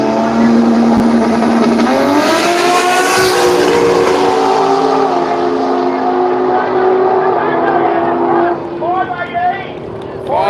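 Drag racing cars make a run at the Kenda Radial Drags at Willowbank, Australia, engines loud and close, revving and rising in pitch as they accelerate, with excited commentary talk throughout.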